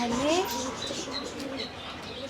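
Fancy pigeons cooing inside a bird shop, a short soft coo rising near the start over a busy, steady room background with faint chirps.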